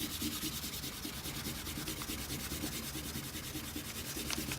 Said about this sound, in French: Ok, on peut gommer les traits de construction.